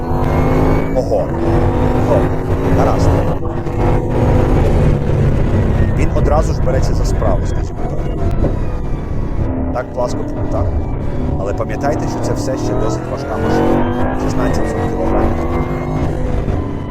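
A Bugatti Bolide W16 track car drives on a racing circuit, its engine a loud sustained roar with rising and falling revs through the corners, while someone talks over it.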